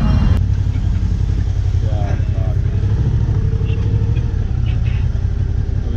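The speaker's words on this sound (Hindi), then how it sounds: "ट्रैफिक ओ भाई, क्या ट्रैफिक है भाई" Busy road traffic at Saki Naka junction in Mumbai, heard from a motorcycle: loud, continuous engine drone and idling from bikes and cars close by, with occasional clatter and faint horn-like tones.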